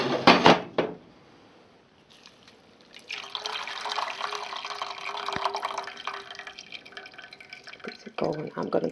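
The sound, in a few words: rinsing mops and flowers in kitchen sink with hot water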